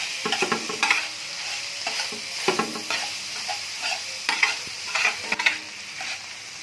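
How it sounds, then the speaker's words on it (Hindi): Minced beef keema fries on a tawa with a steady sizzle. A spoon stirs it in repeated scraping, clinking strokes against the pan, close and moderately loud, with no talking. "हम इसको तब तक भूनेंगे जब तक ये घी नहीं छोड़ देता, और आप लोगों ने मुसलसल इस पे ये चमचा है चलाते जाना"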